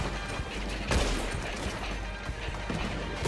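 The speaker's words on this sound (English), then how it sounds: "He's shooting!" Gunfire in the Red Dead video game, a dense, continuous crackle of shots with one louder blast near the start, loud and unbroken over a noisy battle background.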